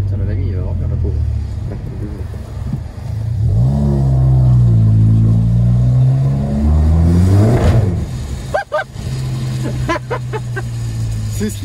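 A small scooter engine, apparently with a full exhaust, revs hard and loud up close in a city, its pitch rising and falling in long surges, then dropping to a steady idle as people talk.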